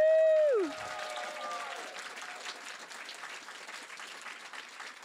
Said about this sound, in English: what needs to happen now is a huge clap for all of our